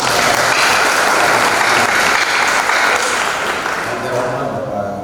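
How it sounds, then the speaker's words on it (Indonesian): An audience applauds during a Sunday morning church service, a loud, dense burst of clapping that holds steady and then gradually thins and fades toward the end. "Mari kita beri aplaus."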